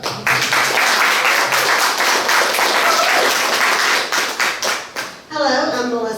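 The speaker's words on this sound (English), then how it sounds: "Let's give a big, big round of applause to Melissa." An audience at a SXSW PropTech pitching event in Austin applauds loudly and steadily for a woman founder taking the stage, the dense clapping ebbing near the end before a voice begins speaking.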